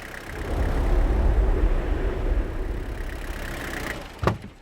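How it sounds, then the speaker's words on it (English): Pickup truck engine running steadily as the vehicle drives toward a cattle farm, a continuous low rumble close by, followed near the end by a short sharp clunk like a door. "let's jump in the truck and make our way over to Merle's farm"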